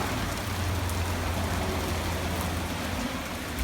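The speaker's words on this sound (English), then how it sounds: "It's also raining pretty hard." Heavy rain pours down outdoors beside a Briggs and Stratton lawn mower being worked on, a loud, constant hiss of drops striking surfaces with a low rumbling undertone, steady from start to finish with no talking.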